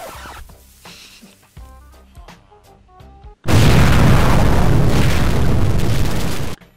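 In the video game Minecraft, a TNT block explodes. Sparse tonal game sounds lead into a sudden, loud, roaring blast that stays dense and steady for about three seconds before cutting off.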